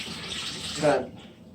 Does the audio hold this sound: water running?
yes